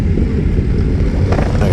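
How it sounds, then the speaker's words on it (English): A car passes close by on the road during a motorcycle ride, its engine and tire roar rising into a broad rushing swell under steady wind noise. "Oh, I thought that was one of our bikes, but it was that car."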